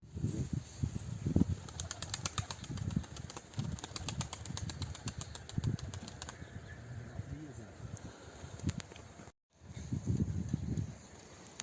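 Birds flap their wings in a rapid fluttering burst, with soft cooing and faint voices in the background.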